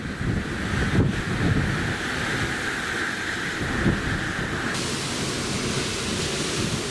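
Strong wind roars across the microphone on the deck of the Coral Princess cruise ship in rough seas heading south toward the Falklands, a constant loud rush with wave noise beneath and no voices.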